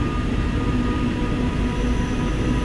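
Class 314 electric multiple unit from the AP sound pack in Train Sim World 2, on the Glasgow Cathcart route, giving a loud, steady rumble of running gear and motor whine with a faint tonal hum throughout.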